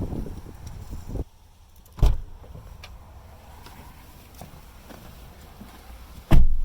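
Inside a 2018 Toyota RAV4 LE FWD, a car door shuts with a thud, small clicks and rustles follow as someone settles in, and a second solid thump lands near the end, all close and fairly quiet.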